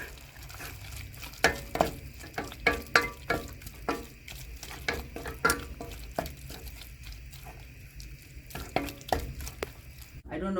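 Frozen vegetables cooking in a pan with coconut oil and coconut milk: a steady string of close scraping stir strokes over a soft, continuous sizzle.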